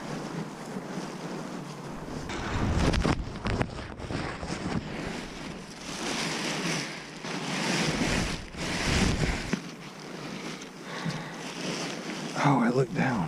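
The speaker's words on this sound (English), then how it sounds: "It is so windy down here" Strong wind buffets the microphone in a loud, steady roar with gusting surges, and a voice talks briefly underneath.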